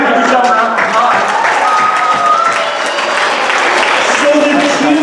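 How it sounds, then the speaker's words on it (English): Children and adults at a church Vacation Bible School evening applaud themselves after a fundraising total is announced, a steady, loud wash of clapping filling the room for several seconds with some voices mixed in. "give yourself a round of applause"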